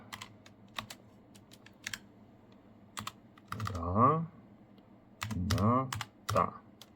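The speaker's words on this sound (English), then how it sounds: "We type command" A command is typed on a computer keyboard during a PlayStation Classic memory upgrade: sparse, crisp keystrokes in small clusters, close and fairly quiet, with a brief low voice murmuring between them.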